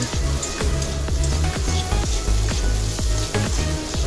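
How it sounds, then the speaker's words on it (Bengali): Potatoes frying in hot oil in a kadai with turmeric powder and salt, with panch phoron and whole chillies, a steady close sizzle running throughout, broken by regular clinks of a spatula against the pan. "আলুটা আমি এখানে ভেজে নিচ্ছি অল্প একটু হলুদের গুঁড়ো আর নুন দিয়ে।"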